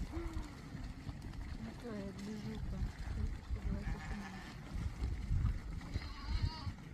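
Goats running to a watering hole in Uzbekistan give several short wavering bleats scattered over a murmur of rustling and movement, with someone talking quietly through it.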